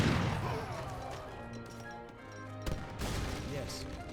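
Falconet cannon fire in an Age of Empires 3 battle, with booming blasts and crashing impacts mixed among other combat noise, partly under a voice commenting.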